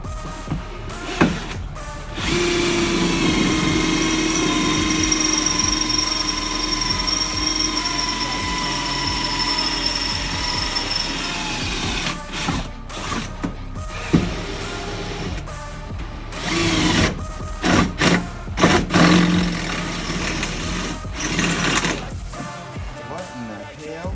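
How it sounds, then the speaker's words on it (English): A power drill whines steadily into a racecar's metal frame rail for several seconds, then runs in short, uneven bursts with clanks and handling noise between them, as the drill bit breaks. "so I broke the drill bit because the frame rail is exactly right there"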